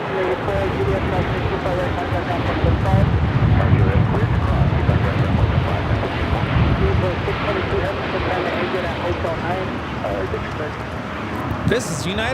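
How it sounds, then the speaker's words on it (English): A United Airlines Boeing 787-9 Dreamliner, flight 801 to Hong Kong, takes off at Los Angeles LAX: a broad, steady engine rumble that swells and then eases slightly, with people talking over it. "This is United Airlines 801 taking off to Hong Kong on the 787-9 Dreamliner."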